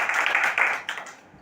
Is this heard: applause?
yes